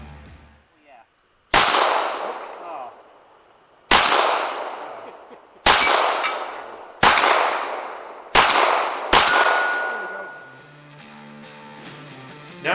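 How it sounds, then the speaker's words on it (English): Six sharp, loud gunshots ring out at shooting practice, fired at irregular intervals a second or two apart, each followed by a ringing decay, with a faint metallic ring afterward. "Now we're going to practice a little shooting."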